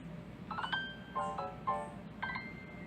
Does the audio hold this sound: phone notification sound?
yes